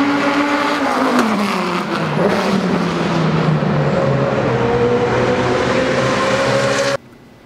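Race cars roaring past on the Honda Indy Toronto street circuit, loud engine whine sweeping down in pitch as one car passes and another rises behind it, continuous and close until an abrupt cut.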